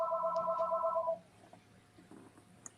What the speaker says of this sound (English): I just wanted to get rid of that phone ringing in the background